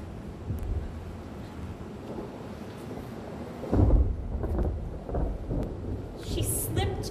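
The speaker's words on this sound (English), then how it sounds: "A thunderstorm?" Thunder rolls through a forest night, a low broad rumble that swells into a louder crack-like surge midway before easing back to a steady murmur, with faint wind and rain noise underneath and no voices.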